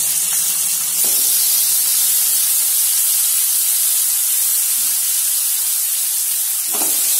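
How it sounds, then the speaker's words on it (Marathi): Tomatoes tossed into a pan of capsicum cooked with besan give a steady, bright sizzling hiss throughout, with a few soft stirring knocks near and in the clear, no talking. "आता आपण याच्यात टमाटर टाकून देऊया"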